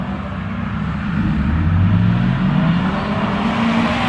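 Subaru WRX cars accelerating off the line at a gamblers drag race, a loud sustained engine roar building and holding steady with no talk over it.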